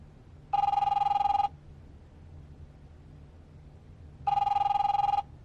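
Two loud electronic telephone rings about three seconds apart, each a buzzing trill lasting about a second, over a low steady hum, before an answering machine picks up.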